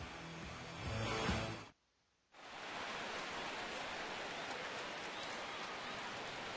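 Rain falling on a field in a baseball video game, a dense steady hiss that briefly cuts out to near silence before resuming evenly, with a louder burst of crowd-like noise early on.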